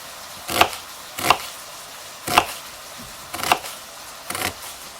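A knife chops an onion into fairly thick half rings on a board, five sharp, evenly spaced cuts about a second apart, close and clear against a quiet room.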